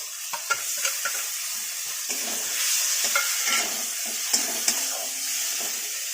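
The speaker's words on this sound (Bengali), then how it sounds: "এবার অল্প ভাজা ভাজা হবে," Pointed gourd and prawns sizzle in a pan while being stirred, a soft continuous frying hiss punctuated by light spatula scrapes and clicks, close and with no talking.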